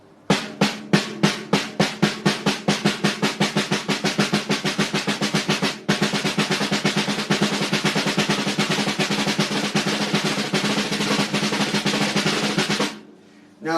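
A drum damped with a muffler is struck in quick, even strokes that speed into a dense, steady roll, briefly broken once, before stopping near the end, played close and alone.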